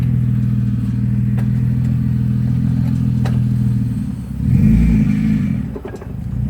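A Nissan 350Z engine idles with a steady low rumble and light clatter, then revs up briefly as the car pulls away, loud and close with no talk.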